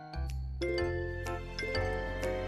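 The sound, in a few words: subscribe bell ding sound effect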